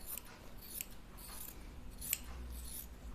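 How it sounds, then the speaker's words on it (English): Scissors trimming the fabric seam allowance on a sewn uniform tunic, a few quiet snips and soft cloth rustles close by, faint and sparse with no talking. "see if I can trim down my seam allowance anywhere"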